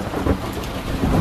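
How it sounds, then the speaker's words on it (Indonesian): Heavy rain pours down in Bandung with thunder rumbling low beneath it, a dense continuous wash of rain that grows slightly louder toward the end. "karena hari itu Bandung sedang diguyur hujan, membuatku harus menunggu sampai hujan reda"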